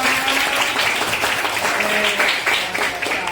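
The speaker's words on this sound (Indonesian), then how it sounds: "Ya, tepuk tangan buat kita semua." Elementary school classroom of pupils applauding together, a steady, dense wash of clapping that continues throughout with a few voices mixed in.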